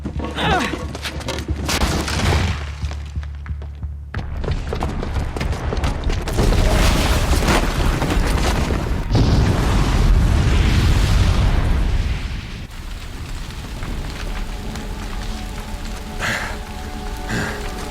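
Bomb booby trap going off in the video game Horizon Zero Dawn, a loud sustained roaring blast with rumbling debris that swells mid-clip and then eases into a lower, lingering crackle.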